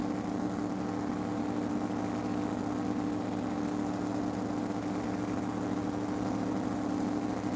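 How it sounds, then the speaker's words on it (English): Drag racing cars sit on the starting line at Tucson Dragway, engines holding a steady, loud low drone with turbos spooling, a constant heavy rumble with no speech. "Spooling up the turbos."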